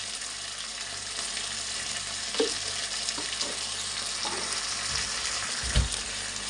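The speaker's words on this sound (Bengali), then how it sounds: "দিয়ে সুন্দর করে মশলাটা এখন কষিয়ে নেব" Spice masala frying over onion in a pan, a continuous hissing sizzle broken by occasional knocks and scrapes of stirring.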